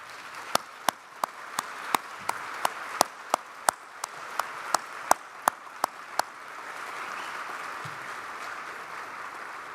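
Scattered claps from a crowd at a 2023 school of anesthesia graduation ceremony, honoring veterans and active military, with about seventeen sharp distinct claps ringing out over a steady hall murmur before giving way to a softer broad wash.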